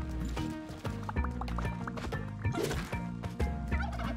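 Turkey gobbling in the video game Spelunky 2, repeated rapid gobbles mixed with clattering, hoof-like footsteps in a busy stream of game effects.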